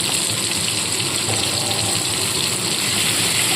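Water is poured in a small amount into ground cumin paste with tomatoes in a pan while a cabbage kofta curry is being made. A steady, close gushing wash runs throughout with no talking.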